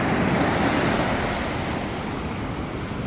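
Sea waves at Surathkal beach in Mangaluru roll in a broad, constant surf roar with wind buffeting the microphone, fading slightly over the short stretch.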